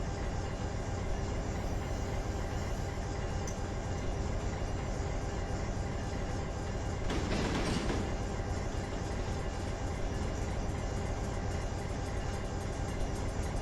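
A 12,000-ton coal train rumbles steadily in Run 8 Train Simulator, a continuous loud roll of wheels and engine noise with a brief swell of hiss midway.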